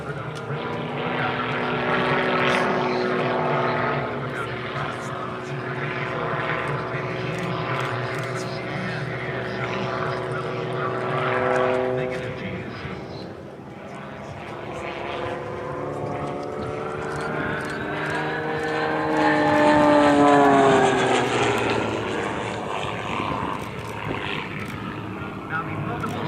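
A Rebel 300 propeller plane flies aerobatics at the Singapore Airshow, its engine droning loud and steady with a rising, shifting pitch as it climbs and turns, while crowd or commentary voices murmur faintly underneath.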